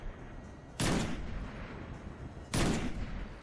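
Two heavy gunshots from the Destiny 2 video game fire about two seconds apart, each a loud broadband blast with a lingering rumbling tail over a steady background hum.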